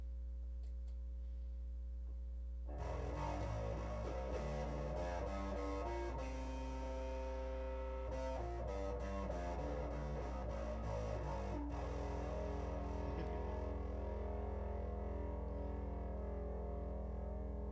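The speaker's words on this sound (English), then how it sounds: "you can hear the tube screamer with the octave reverb pedal at the same time" Bass guitar, a PJ bass, played through a Tube Screamer overdrive and an octave reverb pedal, thick, fuzzy sustained notes with a wide, washy tail, playing a riff for several seconds.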